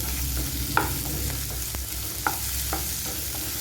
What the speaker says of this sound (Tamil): தக்காளியும் நல்லா வதங்கி வரட்டும்